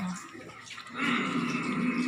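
Rice being washed by hand with water, a soft splash and swish that grows louder and busier after the first second, close and brief.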